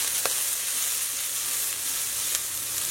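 Chopped red chillies and garlic hit hot oil in a pan for dry mutton peratal, giving a loud, steady sizzle with brief crackling bursts throughout.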